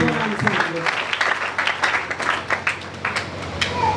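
A church congregation claps and cheers in praise of the Lord, a dense, steady wash of applause with scattered voices shouting and singing over it, fairly close and continuous throughout.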